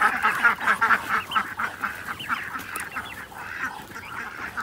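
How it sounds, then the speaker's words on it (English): A flock of grazing geese honking continuously outdoors, many overlapping calls close by in a steady noisy chorus. "Geese, you see the geese there?"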